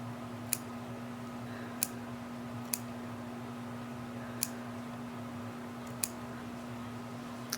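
Six or so sharp, tiny snips of small scissors cutting fabric along a curved edge, spaced irregularly, quiet and close, over a steady low electrical hum.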